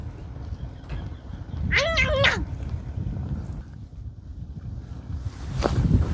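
A single cat meows once, a drawn-out wavering cry, against outdoor wind and water noise with some low rumbling, at a shore fishing spot on Korea's west coast.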